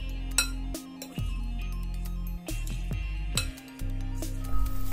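Yogurt, salt and gram flour mixed in a bowl: a spoon clinks and scrapes against the bowl in several sharp, close taps over a steady low hum, with no talk.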